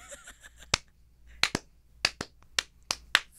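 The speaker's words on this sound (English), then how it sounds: "Slow clap." Two people give a slow clap: sharp, spaced claps close to the mic with uneven gaps between them, some landing in quick pairs, against an otherwise quiet room.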